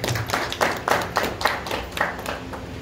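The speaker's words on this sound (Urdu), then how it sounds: "زوردار تالیاں بجا دیں۔" An audience claps at a legal society gathering, a couple of seconds of loose, fairly close hand claps with a rhythmic pulse and no speech.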